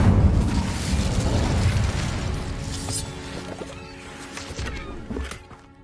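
A fiery Incendio spell blast in a Hogwarts wizarding video game bursts out as a loud, rumbling boom with crackling fire, then trails off into softer crackles and a few sharp impacts.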